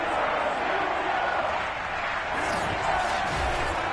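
Sold-out Heinz Field stadium crowd in Madden NFL 22 for a Steelers versus Giants game, a continuous broad roar of cheering that stays constant.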